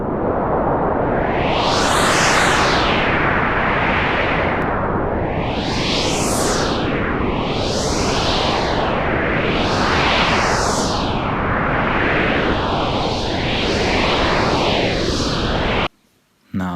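Sonified tones representing Uranus's moons Oberon and Titania: a continuous wash of noisy, sweeping synthetic sound with repeated rising-and-falling whooshing arcs, loud and steady, cutting off abruptly near the end.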